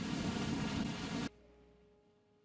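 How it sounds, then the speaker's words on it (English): A loud, steady broadband rush of airplane engine noise in the video game Kerbal Space Program cuts off abruptly partway through, leaving a faint, quiet hum. "Nice airplane noise."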